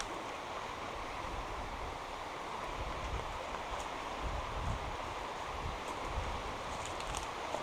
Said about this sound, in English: There's the river anyway there.